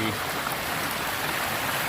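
Water from the Khao Phanom waterfall flows in a steady, even broadband rush, with no breaks and no other sounds.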